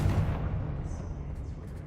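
A Confringo blasting curse in the Hogwarts Legacy video game goes off as a loud, rumbling blast that slowly decays over about two seconds, with low booming energy and no voices.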